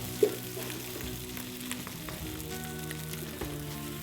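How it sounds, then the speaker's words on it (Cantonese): Fish maw pan-frying in oil gives off a steady, close sizzle and crackle throughout, with one brief louder spatter near the start and no voices. "你輕輕你咧咁樣煎下佢"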